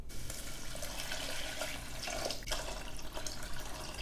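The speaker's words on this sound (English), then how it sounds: "For bouillon, add 4 cups of water" Water poured steadily into a cooking pot for chicken bouillon, a continuous close splashing stream with no speech.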